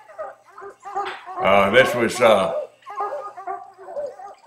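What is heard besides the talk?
young coonhound pups barking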